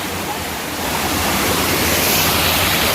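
A waterfall near a Mahadev temple on Girnar in Junagadh where people bathe, a steady loud broadband roar of falling water, close and unbroken throughout.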